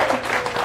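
A brief burst of audience applause at a business pitch event, a dense, steady patter of many hands clapping close by with no voices over it.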